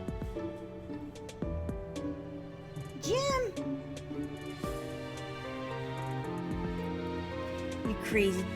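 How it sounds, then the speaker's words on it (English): A cat meows twice within Fire Emblem: Three Houses game audio, a brief rising cry mid-way and another near the end, over steady background music. "Crazy cat."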